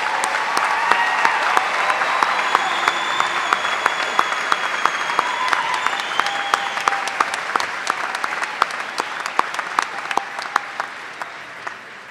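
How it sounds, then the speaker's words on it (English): Audience applause at a university commencement for business and nursing graduates, a sustained, even wash of clapping in a large hall with sharp individual claps standing out, continuing for several seconds. "offering a round of applause"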